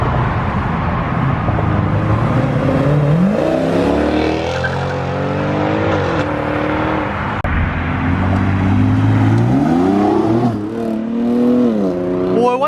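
Muscle cars leave a car show on a chilly day with cold tires, one sliding sideways. Their engines roar loud and close, rising in pitch through several hard accelerations, with continuous exhaust rumble and no talk.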